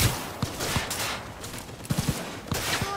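Gunshots ring out in Cyberpunk 2077, several sharp reports fired in quick pairs and short bursts over a few seconds against a low background.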